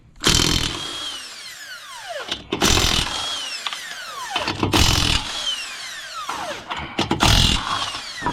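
A power tool whirs in repeated bursts while the wheel comes off a jacked-up Nissan Versa, each burst rising and falling in pitch, several close and loud runs with short gaps between them.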